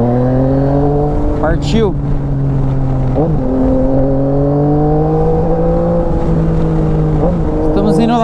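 A Yamaha Tracer 900 GT motorcycle engine droning loud and close while riding, with rising and falling pitch as it accelerates between shifts, under someone speaking briefly.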